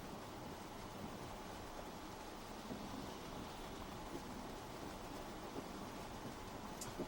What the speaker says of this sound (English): It is raining pretty good outside.